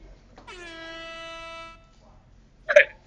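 A loud air-horn style sound effect gives one sustained, steady blast of about a second, then a short, sharp burst follows after a pause.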